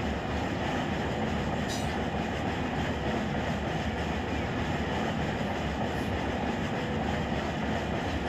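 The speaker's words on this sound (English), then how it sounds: "So that's a coal train?" A coal train in the Run 8 Train Simulator III game rumbles steadily and loudly throughout, a continuous dense roar of rolling railcars with a brief high squeal near the start and no talk.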